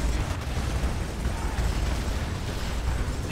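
Artillery shells explode during a battle in the Command & Conquer 3: Tiberium Wars strategy game, giving a dense, continuous rumble of booms and bursts that stays loud from start to finish.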